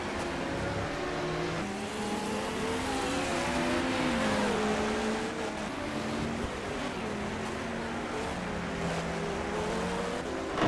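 LMP1 race cars in a racing video game at Long Beach scream along the track, engines whining up and down through gear changes in a continuous close battle, with no talk.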